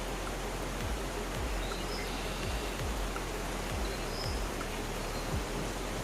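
Waterfall rapids at Westquarter Glen in Falkirk rush in a steady, dense roar of water, constant and close with no voices, with faint low thumps recurring underneath.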